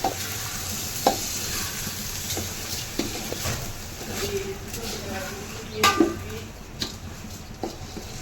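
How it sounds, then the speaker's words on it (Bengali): Washed rice stir-fried with reddened onions in a pot for Haji-style biryani, steady soft sizzle with scattered spatula scrapes and clinks, a voice speaking briefly over it. "চালটার মধ্যে যখন একটা সনসন টাইপের সাউন্ড আসবে তখন বোঝা যাবে চালটা ভালো করে ভাজা হয়েছে"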